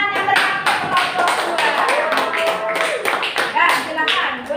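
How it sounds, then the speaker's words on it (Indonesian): A group of students is applauded in a classroom, with sustained, lively clapping that runs throughout, a voice speaking over it now and then. "beri tepuk tangan yang meriah untuk kelompok"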